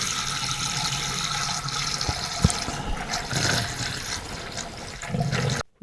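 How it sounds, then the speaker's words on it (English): Coolant poured into a freshly rebuilt diesel engine, a steady close gush of liquid running for several seconds with slight surges, ending abruptly. "I'm going to put some coolant in."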